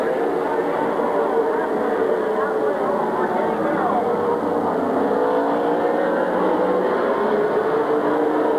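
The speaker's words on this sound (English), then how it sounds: "Chad Squires into the pits in car 26" Race cars lapping an oval at Midvale Speedway during a 1999 event, engines droning steadily and continuously in the distance while an announcer talks over them throughout.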